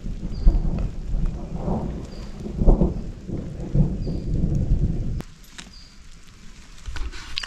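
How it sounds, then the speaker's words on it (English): Steady rain patters outdoors on a mountain trail near Banff, a dense continuous hiss with a few heavier gusts and distant rumbles, softening toward the end. "Who would have expected rain?"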